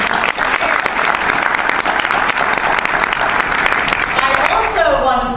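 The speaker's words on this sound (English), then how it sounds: "let's start by clapping for Dave and thanking him for his leadership and commitment" An audience claps for Dave, the leader of an anti-litter volunteer group, at a thank-you event, with dense, loud, sustained applause that runs throughout and drops off abruptly at the end.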